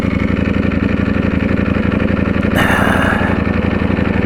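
Ducati V4S Full Carbon motorcycle idling at a traffic light, a steady close, loud engine rumble with even pulsing throughout and a brief brighter surge of rev about midway.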